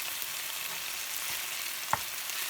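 Chicken strips sizzling and frying in a pan while being cut into pieces with a spatula for chicken and broccoli pasta; a steady broadband sizzle runs throughout, with one sharp scrape or tap near the end.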